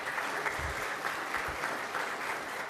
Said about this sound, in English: Give him a round of applause over here.